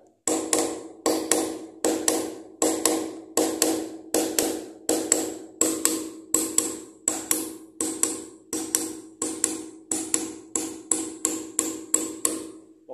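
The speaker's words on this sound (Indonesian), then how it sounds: "Kemudian kita palu lagi pelan-pelan." A hammer drives a nail into a masonry wall with a long, steady run of sharp, evenly spaced taps. The blows are close and crisp, and no one speaks.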